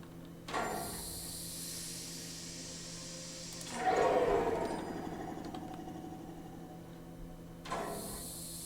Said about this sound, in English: So now the steam's coming out of that side.